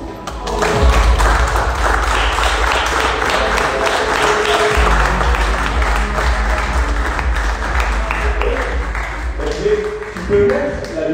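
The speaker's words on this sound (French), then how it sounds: "ce staff mérite nos applaudissements" A crowd at a 2021/22 season team presentation applauds the staff with loud, sustained clapping that fills the hall. Voices can be heard within the noise.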